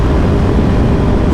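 Motorcycle fitted with an aftermarket exhaust and a BT Moto Stage 2 tune, a loud steady engine drone filling the whole short stretch with no talking over it.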